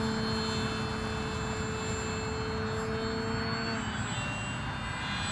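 A UAV drone climbs away just after launch on its maiden flight, its engine a steady, loud tonal whine that holds constant, then shifts pitch slightly near the end.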